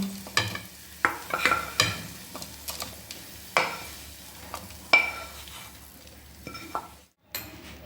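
Repeated scraping and stirring of green peas in a pan, a spoon knocking and dragging through them in irregular strokes, with a soft sizzle underneath and no talking.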